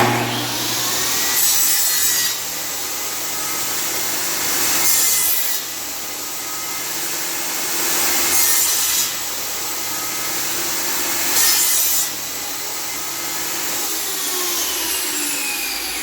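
A hand saw cutting wood at a 45-degree angle for a tea light candle holder, loud close rasping strokes in long regular passes with short pauses between them, no talking.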